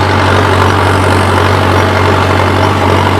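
A large tractor pulling a cultivator turns in a field, its engine running loud and close in a constant low drone with no pauses.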